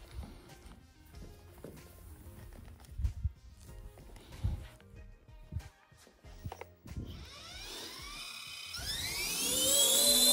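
RC ERA model helicopter being hovered during gyro calibration and level hover setup, its small motor whine rising steadily in pitch and loudness toward the end after scattered handling clicks.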